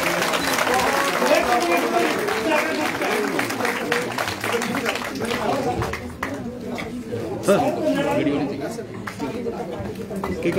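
A crowd at a political party joining event claps loudly to welcome new members, the applause blending with chatter and a voice speaking over it throughout.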